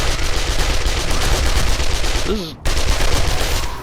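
Rapid automatic gunfire from hip-firing a weapon in the zombie survival game 7 Days To Die, a continuous loud burst with a brief gap near the end before firing resumes.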